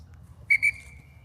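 Two short, sharp falconry whistle blasts close together to recall a hawk, followed by a steady fading tone, with faint low rumble underneath.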